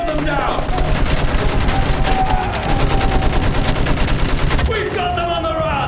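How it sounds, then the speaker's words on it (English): Loud, sustained machine-gun fire rattles almost nonstop in the Battlefield 1 World War I campaign, with a short pause near the end and voices mixed in with the battle noise. "Use that machine gun! Burn them down!"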